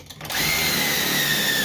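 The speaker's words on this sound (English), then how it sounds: "Take your drill and just drill your hole." Power drill boring a hole through a wooden board for an L-shaped desk build, a steady high whine starting after a brief pause and running loud and unbroken to the end.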